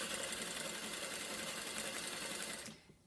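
Sewing machine stitching fabric around welt cord, a rapid mechanical whirring chatter running steadily and fairly close, then stopping abruptly near the end with a faint click afterward.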